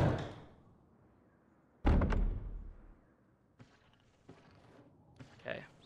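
A heavy door in the Resident Evil Remake video game opens with a loud thudding bang after a fading rumble, followed by softer shuffling and creaking movement sounds with a few light knocks.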